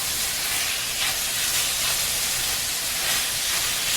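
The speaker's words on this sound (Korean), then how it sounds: "준비된 소스를 넣어서 빠르게 볶아내면은" Beef, mushrooms, broccoli and sauce stir-fry hard in a hot pan, producing a steady, bright sizzling hiss that runs without a break for the whole stretch.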